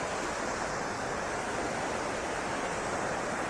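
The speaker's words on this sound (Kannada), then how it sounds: "ನೋಡಿ, ಆ ಮೇಲ್ಗಡೆಯಿಂದನೂ ಒಂದು ಚಿಕ್ಕ ಸ್ಟ್ರೀಮ್ ಬರ್ತಾ ಇದೆ." Small mountain stream on a Western Ghats trek near Nethravathi Peak, flowing under a bridge into falls, heard as a steady, dense rush of water, close and even throughout with no voices.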